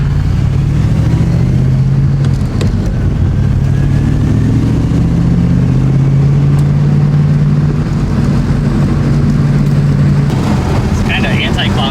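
A Ford Mustang with a new engine and ProCharger supercharger drives along, its engine droning loudly and steadily from inside the car with rising and falling revs, with people talking over it.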